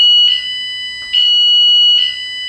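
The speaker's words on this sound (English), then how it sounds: "The bike alarm is way louder than even my BMW's alarm." Loud 113 dB motorcycle alarm siren sounding up close in steady repeated electronic beeps, about three pulses with short dips between them, alone without speech.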